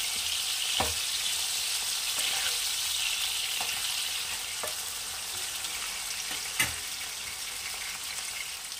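Steady hiss of potatoes and eggplant frying in hot oil, with occasional soft knocks from a spoon, close up and constant throughout.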